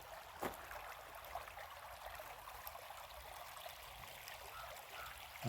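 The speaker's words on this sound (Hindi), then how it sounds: "ये बह रहा है कलकल नदी का पानी" Gentle, continuous trickling and gurgling of river water flowing over stones, steady and soft, with no voices.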